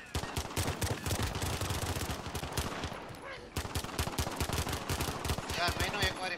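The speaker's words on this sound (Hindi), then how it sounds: "यार गन कौन मार रहा है" Dense, rapid automatic gunfire from Call of Duty Modern Warfare Infected mode rattles almost nonstop in loud close bursts, with a brief lull midway and players talking over it.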